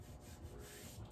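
A hand rubs over the coarse textured surface of an IKEA HAVSTORP cabinet door, giving a short, quiet, dry scraping swish.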